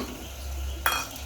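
A spice mix goes into bottle gourd frying in a pan for a gourd-and-lentil curry: a steady low sizzle, then one sharp clink and a brief burst of hissing as the spices hit the hot oil.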